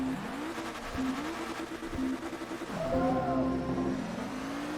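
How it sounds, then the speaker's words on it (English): A Forza Motorsport 2 race car engine hums and revs steadily, its pitch climbing and shifting through gears, loud and continuous throughout. "And listen to that engine."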